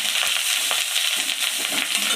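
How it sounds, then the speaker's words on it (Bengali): Neem leaves fry with salt and turmeric until crisp, making a dense, loud, close sizzle broken by bursts of stirring and scraping in the pan. "এটা ভালো করে মচমচে করে ভেজে নেব"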